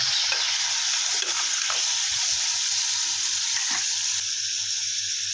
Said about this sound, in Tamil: அதையும் எண்ணெயில் போட்டு நல்லா வணக்கிடலாம்.